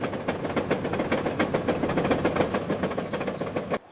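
A small zoo ride train rolls along with a steady, rhythmic clickety-clack of wheels over track joints, close and fairly loud, running continuously until it cuts off abruptly near the end.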